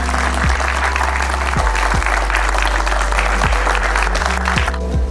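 Loud, steady applause from a church congregation fills the room throughout, with a low sustained music tone underneath and no talk.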